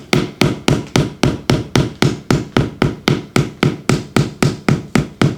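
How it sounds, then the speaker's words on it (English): Regular, evenly spaced knocks, about three per second, each a sharp hollow thud with quick decay, as a rubber mallet taps a laminate floor steadily. "You can use the same mallet that came with your kit, or a rubber mallet, or maybe even a hammer."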